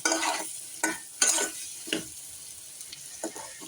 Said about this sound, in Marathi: तर हिला आता व्यवस्थित छान असं आपण त्या बटाट्यासोबतच परतून घेऊया।